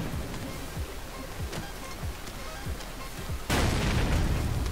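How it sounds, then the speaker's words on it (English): Explosions in the video game Ace of Spades: a series of dull low booms thumping every half second or so, then a louder sustained rumbling burst near the end, with no talk. "I hear explosions."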